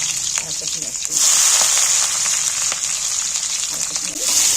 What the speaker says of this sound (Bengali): এবার আমি কাটা পেঁয়াজগুলো তেলের মধ্যে তুলে দিচ্ছি